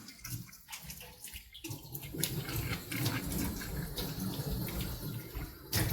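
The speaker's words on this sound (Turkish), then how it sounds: "sonrasında gelip lavabodan suda temizliyoruz" Tap water runs steadily into a sink as plaster residue is rinsed off a dental model tray, a broad continuous splashing flow that grows louder after the first couple of seconds, with no voices.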